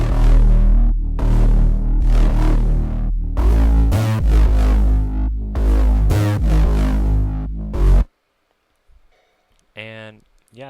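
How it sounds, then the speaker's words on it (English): Three synth basses stacked together in a dense, pulsing groove with gliding pitch sweeps, loud and continuous, stopping abruptly before a faint electronic blip. "And all three basses together sound like this."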